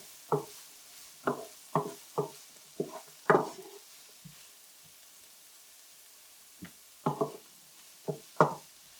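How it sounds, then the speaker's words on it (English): Pumpkin pasta simmering in a pan is stirred with a utensil, making a quiet, close series of soft knocks and wet scrapes in irregular clusters with short pauses between them. "So we just stir that around a little bit."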